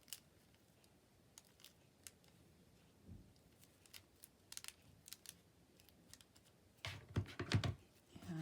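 Paper being trimmed with a blade or scissors to make a paper sack notepad insert: quiet, sparse snips and light crisp ticks, then a louder burst of rustling and handling near the end.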